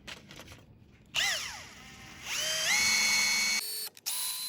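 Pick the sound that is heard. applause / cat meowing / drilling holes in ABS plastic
drilling holes in ABS plastic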